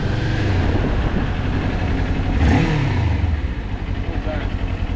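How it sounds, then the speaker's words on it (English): Engine revving during a track practice session, a dense mid-pitched roar with a brief surge and sweep in the middle, mixed with speech-like chatter and broadband noise throughout. "What do you rev it for?"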